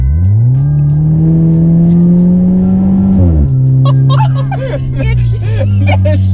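A loud, droning straight-piped car engine holds a steady pitch under acceleration, then drops as the revs fall, with crackles and pops following.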